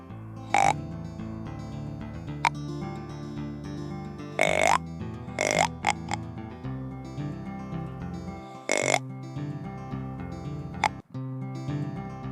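Several short, low guttural deer grunt calls, imitating a buck, sound at intervals over a steady tonal background.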